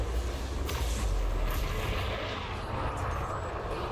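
A spaceship in Elite Dangerous accelerates with a dense, heavy engine rumble and roar, loud and continuous over a few seconds, with a faint high whine on top.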